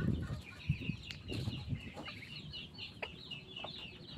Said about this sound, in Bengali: এগুলো আমার দেশি মুরগি